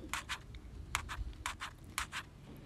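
Cashews, almonds and pistachios being stirred while frying in a pan, with a quiet, steady run of short scraping strokes from the spoon, about two per half second, over a low background hum.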